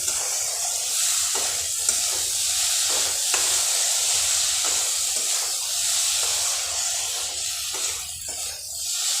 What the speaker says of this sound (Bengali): খুব ভালো করে মশলাটা ভাজা করে নিতে হবে যাতে আমি যে জিরে গুঁড়ো ধনিয়া গুঁড়ো দিয়েছি